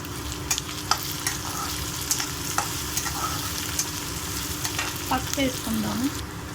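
Ridge gourd and green chillies sizzle in a pan with moong dal, a steady close frying hiss with occasional spoon scrapes and taps as the mix is stirred.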